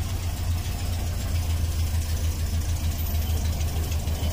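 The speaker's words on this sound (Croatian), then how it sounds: "Kako zvuči auto sa 50 godina?" A nearly 50-year-old American Cadillac idles at an oldtimer show, its engine holding a steady, close, low throb throughout.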